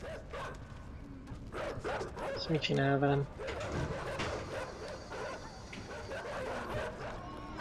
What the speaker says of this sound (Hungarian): Kutyák is vannak.